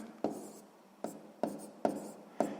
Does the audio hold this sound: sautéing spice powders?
no